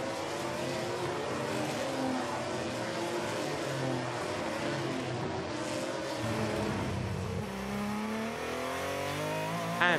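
GP3 race cars at the Spanish circuit scream past on the penultimate lap, a loud continuous high-revving engine roar with shifting pitch under faint commentary.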